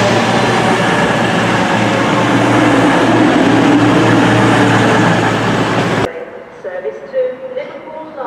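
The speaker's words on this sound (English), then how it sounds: "Here comes the 1303 cross-country service to Manchester Piccadilly." A CrossCountry passenger train, unit 220013, arrives at Telford Central station with a loud, steady rumble that cuts off abruptly after about six seconds, leaving quieter platform ambience.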